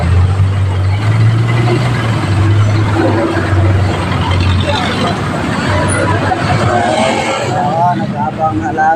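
Busy street traffic with jeepneys and other vehicles passing, a loud rumbling roadside wash of engines and low idling drones, with people talking nearby throughout.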